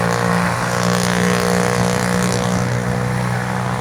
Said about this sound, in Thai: เดี๋ยวเราให้รถไถแปลงทางสักแป๊บหนึ่งครับ